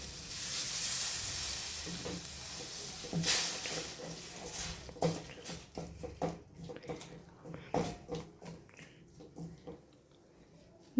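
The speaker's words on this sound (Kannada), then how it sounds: "ಇದಕ್ಕೆ ಧನಿಯಾ, ಖಾರದ ಪುಡಿ, ಅರಿಶಿಣ ಮತ್ತು ಗರಂ ಮಸಾಲ ಇಷ್ಟನ್ನು ಹಾಕಿ ಸ್ವಲ್ಪ ಫ್ರೈ ಮಾಡ್ಕೊಳ್ಳೋಣ." Coriander, chili, turmeric and garam masala powders fry in a pan for bhindi masala, starting with a loud steady hiss that fades into scattered stirring knocks and scrapes.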